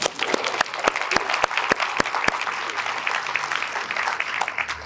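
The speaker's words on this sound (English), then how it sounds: "This is where we give him a clap." An audience at a city's state-of-the-city address applauds the county commissioner, a crowd's clapping with a few sharp, distinct claps standing out early, then settling into a steady patter.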